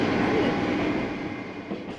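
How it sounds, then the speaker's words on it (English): A small local train in Japan rumbles steadily along the rails through the countryside toward Motegi, loud and close, with a constant rolling hum and clatter and no voices. "We then got on a very small local train through the countryside"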